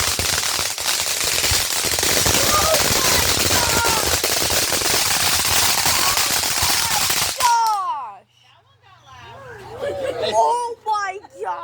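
Loud Fourth of July fireworks: a dense, sustained roar of crackling bursts and rapid popping for several seconds, then it cuts off and excited voices and chatter follow close by.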